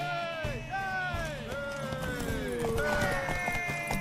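Horse hooves clip-clopping at a gallop in The Witcher 3: Wild Hunt, a rhythmic drumming under a swirling musical score, with character voices speaking over it.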